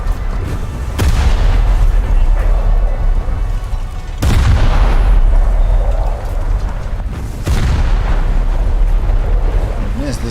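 Guns firing in War Thunder during a fight with a destroyer, loud heavy booming bursts that come in long rumbling stretches broken by sharp cut-offs, with someone talking over them.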